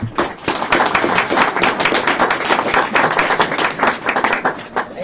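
An audience at an AA meeting claps together, a dense burst of many hands that stays loud and steady throughout, with no speech over it.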